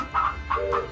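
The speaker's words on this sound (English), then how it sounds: "Animatronic horses and chickens." Three short, bright clucking calls from an animatronic chicken in a steady rhythm, fairly close, with a faint mechanical hum underneath and no talking, at a theme park.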